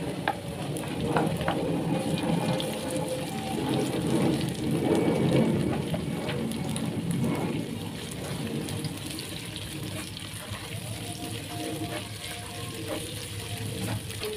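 Chopped yellow onions hit a pan with other spices while chicken noodles are being cooked, giving a loud, steady, close sizzle that holds through the whole stretch with light stirring underneath.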